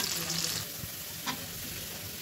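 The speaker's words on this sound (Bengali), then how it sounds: "এই যে পেঁয়াজ আর রসুন কুচি দিলাম, একটু বাদামি কালার হয়ে গেলে আমি শাকটা দিয়ে দিব" Chopped onion and garlic frying in a wok, a steady close sizzle with a couple of brief stirring knocks.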